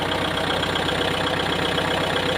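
Kubota L5018 tractor diesel engine fitted with a turbo, running steadily in second gear under load: a loud, close, continuous rumble that holds its pitch throughout, with no one speaking.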